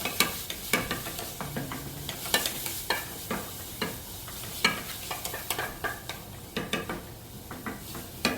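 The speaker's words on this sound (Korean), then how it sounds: "고기가 다 익을 때까지 자잘자잘하게 부셔주시고" Minced beef crackles and sizzles in a frying pan while a spatula breaks it up and stirs it, with repeated scraping strokes and light clinks against the pan throughout, close and steady with no talking.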